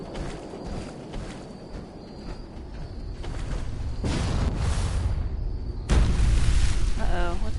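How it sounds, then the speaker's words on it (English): Heavy, rumbling blasts in the Fallout 4 wasteland: two broad booms roll in over a steady low background, the second one louder and sharper. "It looked like I saw some explosions or something. Or was that just the lightning?"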